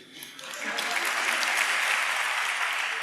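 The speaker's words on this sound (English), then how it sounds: "What a feeble clap from you." Audience clapping at a spiritual discourse on Draupadi builds from a faint start into a steady, moderately quiet round of applause in a lecture hall, with no talking over it.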